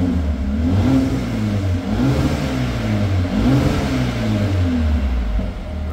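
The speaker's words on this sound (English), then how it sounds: "now we're going to see what it sounds like" A Mercedes-AMG A 35 4MATIC Premium Plus with a 2.0-litre 302 bhp engine revs up repeatedly from idle, each blip rising and falling in pitch in a steady cycle, loud and close with no talking.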